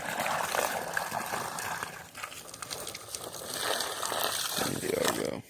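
Water is poured into a flimsy plastic ice cream tub used as a chicken water bucket, a close, continuous splashing trickle that shifts in pitch as it fills.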